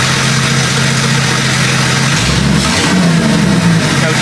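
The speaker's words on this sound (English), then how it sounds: "We'll rev it up to make somebody happy." A Dodge Durango engine revs up from idle, a steady low rumble with a rising pitch sweep midway as the throttle opens, close and loud with no talking.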